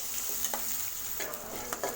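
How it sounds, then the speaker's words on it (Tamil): Chopped onion and green chilli sauté in hot oil in a pan, giving a continuous soft sizzle. Several scraping stirs of a spatula cut through it, fairly close and with no talking. "வெங்காயம் பாருங்கள் கண்ணாடி பதத்துக்கு வதங்கிடுச்சு"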